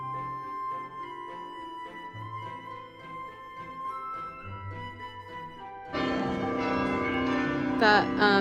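Church bells in Bruges ring in a tolling sequence of clear pitched strikes, then a louder, denser peal of several bells crashes in together, ringing near and full.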